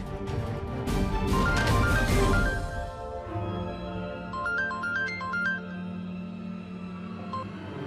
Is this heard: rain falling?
no